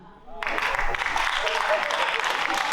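A comedy show audience at a festival breaks into sudden applause after a brief quiet moment, then keeps clapping densely and steadily, with some voices mixed in.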